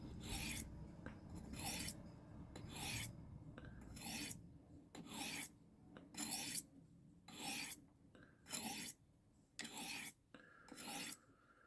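Knife blade, such as M390, VG10 or 12C27 steel, stroked across a Lansky turn box sharpener, a close, rhythmic series of gritty rasping strokes about once a second, with quiet pauses between them.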